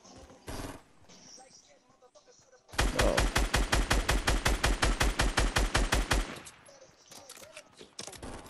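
A rapid burst of automatic gunfire in a shooter game, loud and evenly spaced for about three and a half seconds, preceded and followed by a few isolated shots and quiet talk.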